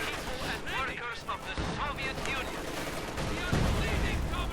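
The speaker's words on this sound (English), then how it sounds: "this screen wall offers excellent cover against machine gun fire" Rapid, dense bursts of machine gun fire crackle through a WWII strategy video game battle, loud and continuous with heavier thumps of explosions mixed in and speech-like voices overlapping the gunfire.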